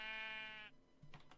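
A Minecraft sheep gives one clear, sustained bleat. A few faint clicks follow once the bleat stops.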